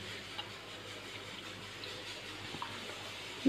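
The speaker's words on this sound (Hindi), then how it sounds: "इन सबको पानी में अच्छी तरह धोना है 3 मरतबा" Basil leaves are swished and rinsed in water, producing a faint, steady watery hiss with a few soft splashes.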